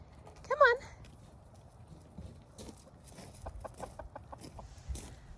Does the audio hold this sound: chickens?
yes